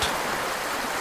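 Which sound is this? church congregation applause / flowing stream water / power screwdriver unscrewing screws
flowing stream water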